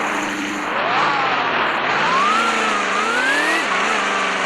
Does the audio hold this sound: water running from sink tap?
no